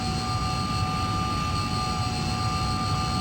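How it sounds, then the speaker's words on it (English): A Hawker Sea Hawk jet taxis in the Flight Simulator 2020 video game, its engine giving a constant, loud, even whine and rumble with steady high tones throughout, no talking. "And here we are driving, right, with our aircraft."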